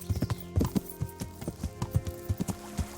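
Horse hooves clop in a brisk, even trot on a path in the Kingdom Come: Deliverance video game, the loud close hoofbeats sounding over a faint steady hum.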